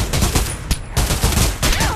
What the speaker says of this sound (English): Did I just shoot you?